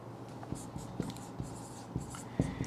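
Pen or chalk writing out a note on chemistry bonding during a lesson: steady scratchy strokes with regular sharper taps roughly every half second, close and continuous, without speech.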